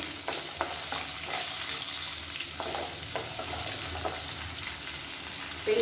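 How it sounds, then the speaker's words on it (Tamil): Pepper and about fifteen whole shallots sautéing in a pan for a South Indian side dish, giving a steady, moderate sizzle and crackle with occasional soft stirring scrapes throughout. "இது எல்லாமே நல்லா வதங்கட்டும்."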